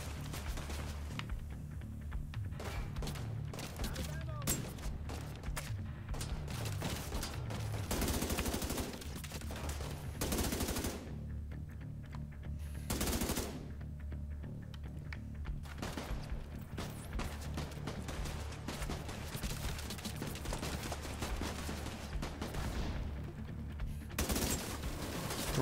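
Gunfire in The Division 2 played on Xbox One X, with rapid automatic bursts and single shots cracking repeatedly over a steady low battle rumble, a few louder blasts standing out across the long stretch.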